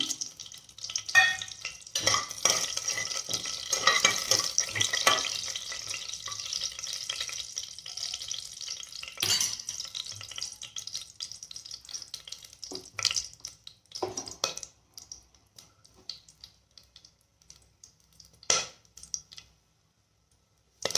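Whole spices crackle and sizzle in hot oil for chicken biryani, a busy frying hiss with stirring clicks that fades into quieter, scattered pops and taps toward the end.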